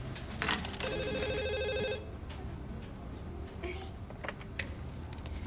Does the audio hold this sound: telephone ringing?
yes